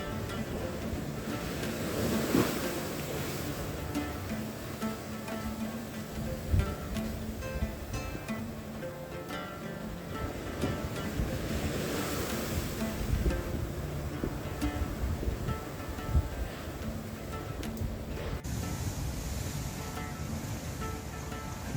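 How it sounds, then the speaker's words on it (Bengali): Rough, stormy sea surf pounds the shore at a Bali beach, a steady loud roar with repeated heavier crashes and some wind noise, and no talking. "এইরকম অসাধারণ সুন্দর সমুদ্রের তাণ্ডব কার না ভালো লাগবে"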